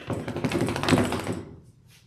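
A Lhasa Apso shakes its head at a grooming table, ears flapping in a quick close burst of soft slapping taps that fades out after about a second and a half.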